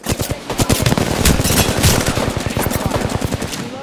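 Rapid automatic gunfire in the Apex Legends video game on Xbox One, a dense, loud, sustained burst of repeated shots rattling steadily through the whole stretch, with a voice faintly under it.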